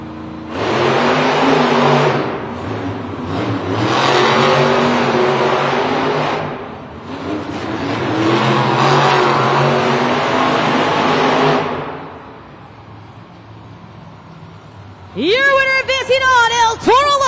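Monster truck engines roar and rev at a Monster Jam stadium event in Louisville, Kentucky, in long loud surges broken by a brief lull, with an announcer talking over the noise.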